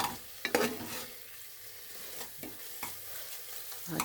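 Tomato and onion sauté in a pan with a soft, steady sizzle, punctuated by a few spoon-stirring scrapes and taps, fairly quiet and close.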